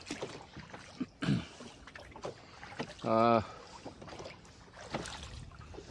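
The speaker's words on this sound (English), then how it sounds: "I'm rowing over to the shore where I had gone to attempt a rescue" A rowboat out on Lake Sonoma, oars knocking and creaking with the occasional splash and dribble of water, with someone talking over the strokes.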